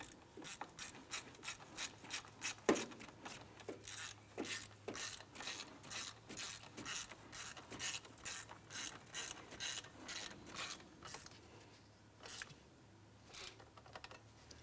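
Rapid ratchet clicking while a camshaft position sensor bolt is snugged down on a 2001-2005 Honda Civic, steady bursts of close, crisp pawl ticks with brief pauses, no talking.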